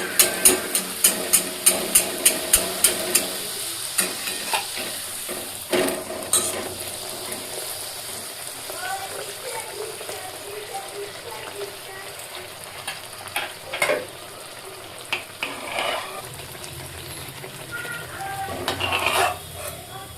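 Cauliflower frying in a pan while making kochuri, opening with a rapid series of sharp metallic taps, then a steady sizzle broken by occasional scrapes and clinks, close and moderately loud.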